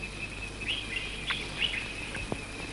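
A little cartoon bird chirps in short, faint tweets scattered over a quiet background, with no talking.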